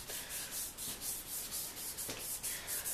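Sandpaper pad rubbing back and forth across a plastic car headlight during a Rain-X headlight restoration, a steady rhythmic scrubbing with regular strokes, close and continuous with no voices.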